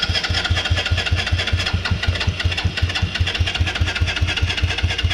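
An ATV engine running just after a motor swap, loud and close with a fast, steady pulsing throb and no talking.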